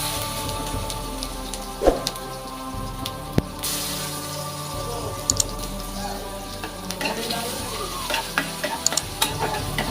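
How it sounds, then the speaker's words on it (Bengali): Crushed garlic sizzles in hot oil with dried chilies and five-spice seeds at the start of a taro curry with hilsa fish head, with steady frying crackle and occasional clinks of a stirring spatula against the pan. "কিছু রসুন থেতো করে নিয়েছি সেগুলো দিয়ে দিলাম"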